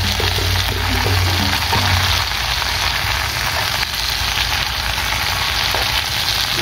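Jackfruit and genjer fry in a pan for rendang over an outdoor village fire, with a loud, continuous sizzle and crackle like heavy rain that stays steady throughout.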